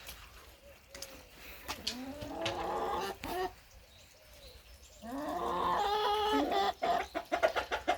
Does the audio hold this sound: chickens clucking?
yes